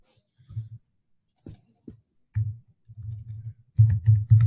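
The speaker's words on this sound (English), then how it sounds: "Sorry, I'm typing about Kickstarter." Keys on a computer keyboard are tapped in short, uneven bursts with gaps between them, ending in a quicker cluster of strokes, close and fairly soft with no talking over them.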